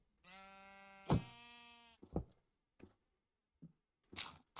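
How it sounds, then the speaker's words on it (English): A sheep in a Minecraft-style video game gives one long, steady bleat, followed by scattered clicks and crunchy game sounds with gaps of near silence. "Sheep, get out of here."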